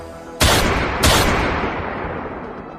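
Two loud gunshots crack about half a second apart, each followed by a long rumbling echo that slowly fades out.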